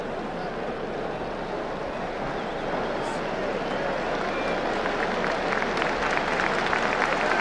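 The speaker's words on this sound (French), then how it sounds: "Les footballeurs hongrois du reste qui sont applaudis, vous le voyez, par le public de Colombes à leur entrée sur le terrain" A football crowd at the Colombes stadium applauds the Hungarian players as they walk onto the pitch in 1964, a dense wash of clapping and crowd noise that swells slightly toward the end.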